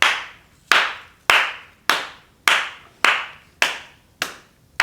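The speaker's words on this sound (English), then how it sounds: "Give me a proper clap." Sharp, loud hand claps for a recording sound check, eight evenly spaced strikes roughly every six-tenths of a second, each ringing out with a short room decay, close and alone without talk.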